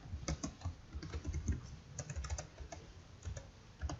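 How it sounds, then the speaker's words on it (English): Quick, steady clicking of fingers typing on a computer keyboard, close and fairly quiet, with no voices. "But we'll type in double joist."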